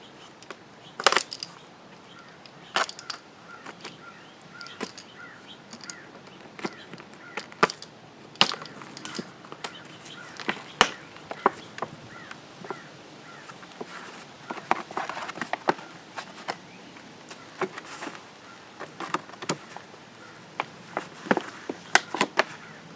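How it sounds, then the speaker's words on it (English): Utility knife slicing through a plastic shrub container to free the root ball, giving a long series of sharp crackling cuts and snaps at close range, irregular and steady, with no talk. "we're going to cut that container off the sides. And you can use just a utility knife to cut through it."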